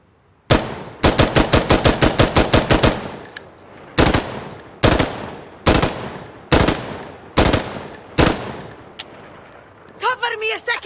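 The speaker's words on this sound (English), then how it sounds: "this video contains all of the primary Insurgency Sandstorm guns" Gunfire from Insurgency Sandstorm video game weapons: a rapid automatic burst followed by several loud, evenly spaced single shots with short ringing tails, ending with brief metallic handling clatter.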